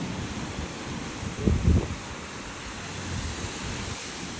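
Sea waves wash onto a beach in Thailand with a steady broadband rush, overlaid by wind buffeting the microphone and a brief low thump near the middle, with no speech.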